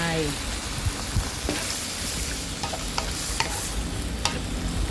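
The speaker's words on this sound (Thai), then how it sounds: "ผัดหน่อไม้ไปสักพัก เราก็จะเติมน้ำก่อนค่ะ" Pickled bamboo shoots stir-fried in a pan for a spicy Thai chicken curry, a soft continuous sizzle with scattered sharp clicks and scrapes of stirring throughout, fairly quiet.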